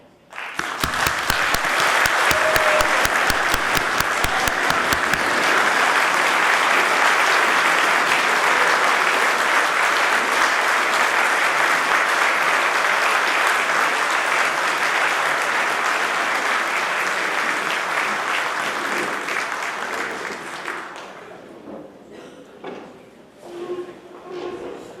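A large audience at a gala applauds Vietnam veterans with loud, sustained clapping lasting about twenty seconds, then thinning into scattered claps and quiet murmurs.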